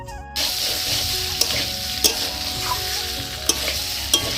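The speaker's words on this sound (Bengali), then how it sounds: "আলুটা নামিয়ে রেখে মশলাটা দিয়ে তারপরে আমি একসঙ্গে আলু আর ডিম কষিয়ে দিচ্ছি।" Potatoes and eggs being stir-fried together with spices in oil, a dense continuous sizzle with occasional sharp clinks and scrapes of the spatula against the pan.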